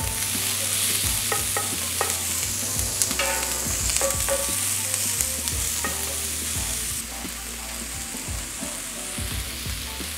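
Onions caramelize in a hot pan, a continuous sizzle broken by repeated scraping strokes of a utensil stirring them, close and fairly loud, with no talking.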